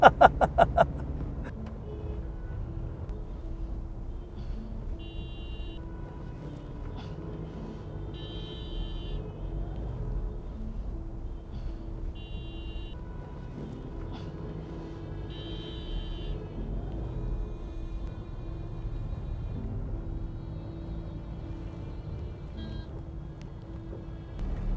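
Car engine idling and rumbling in heavy city traffic, a steady low drone throughout with faint beeps and horn-like tones now and then, no talk.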